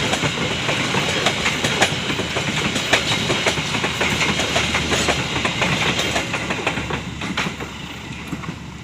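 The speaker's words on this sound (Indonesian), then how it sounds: "itu dia ya kereta api lokal Bandung Raya sudah berangkat dari stasiun Cicalengka" A local Bandung Raya passenger train departs Cicalengka station, rolling past close by with steady clickety-clack of wheels over rail joints and a continuous rumbling roar, no voices.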